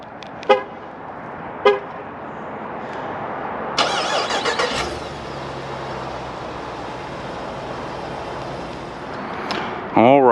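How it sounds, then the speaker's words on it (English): A 2021 RAM 2500 Power Wagon crew cab 4x4 heavy-duty pickup started by remote from its key fob: two short chirps, then the engine cranks, catches loudly and settles into a steady rumbling idle, up close. "Just double press the remote start button on the key fob."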